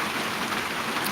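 Steady rain falling in Melbourne on a cold day, a dense, even hiss of drops on surfaces with no pauses and no voices.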